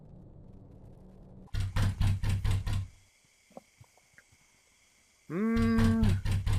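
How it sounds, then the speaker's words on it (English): In the video game Passerby, two bursts of rapid, loud knocking on a door are separated by a quiet stretch with a few faint taps, and a low droning tone plays beneath. "Sounds like they're knocking."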